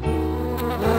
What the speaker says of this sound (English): the honeybees are attracted to the flowers